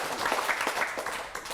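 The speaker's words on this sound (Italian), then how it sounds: "ragazzi mi raccomando adesso gli applausi ancora forti" Studio audience applause on an Italian local TV talk show, steady dense clapping at moderate level through the whole moment.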